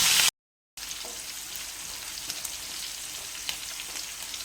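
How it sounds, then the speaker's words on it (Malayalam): Crushed green chillies frying in oil for a gooseberry pickle, a steady close sizzle and crackle after a brief gap, with faint pops throughout. "ഞാൻ പച്ചമുളക് ഒരു ആറെണ്ണം ചതച്ചതും അതുപോലെ ഇതിലോട്ട് ആ എണ്ണയിലോട്ട് നമ്മളൊന്ന് മൂപ്പിക്കാനായിട്ട് ഇട്ട് കൊടുത്തിട്ടുണ്ട്"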